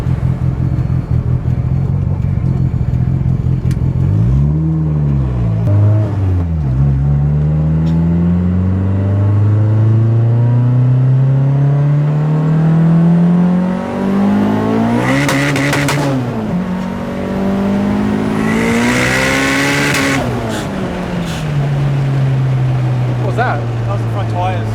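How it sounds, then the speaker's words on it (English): A Toyota Starlet fitted with Nissan coilovers drives hard, its engine loud from inside the cabin and rising and falling through gears, with short harsh scrubbing bursts from the front tyres under braking. "Oh, the front tyres scrubbing? Yeah, when I hit the brakes"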